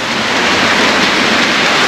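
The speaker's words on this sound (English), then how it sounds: "Oh no, what happened? It's raining." Steady, dense tropical rainfall in Phuket, Thailand, hissing loudly and evenly throughout, a continuous wash of falling drops with no voices.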